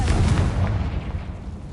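A booming Confringo spell explosion in the video game Hogwarts Legacy, a loud low rumbling blast that slowly fades over under two seconds.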